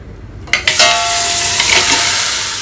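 Seafood masala and fish dropped into hot oil in a pot for a seafood biriyani with mussels and prawns, bursting into a loud, steady sizzle after a couple of sharp clanks, with no talking.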